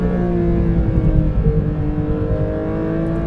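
A Porsche 911 GT3 (type 992) engine drones steadily up close, its pitch rising and falling as it revs, with shifting tones from PDK gear downshifts.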